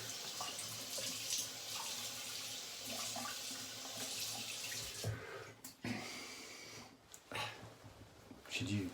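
A LEAF razor is rinsed under a running tap with a steady, moderately loud splashing stream that is broken by a few knocks and bursts near the end.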